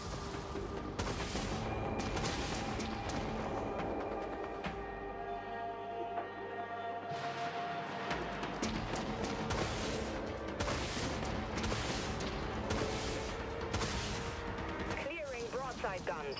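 Broadside plasma guns in the space combat video game Dreadnought fire repeatedly in heavy booming volleys, dense and continuous with a brief lull in the middle, mixed under game voice chatter.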